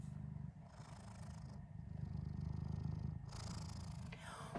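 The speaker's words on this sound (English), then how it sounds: "I don't know if you all can hear it, but she is indeed purring." Soft, low rumbling purr of a cat, continuous and close, with faint rustling around it.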